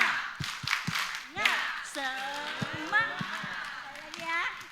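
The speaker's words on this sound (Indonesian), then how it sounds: "Ulangi ya. Tepuk semangat." A church congregation at a Sunday service does a rhythmic spirit clap, with short bursts of unison claps mixed with loud chanted voices, the claps falling in quick groups between the vocal calls.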